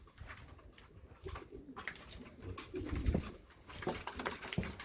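Pigeons cooing in a loft, several soft throaty coos rising and falling near the listener, with faint rustling and no speech.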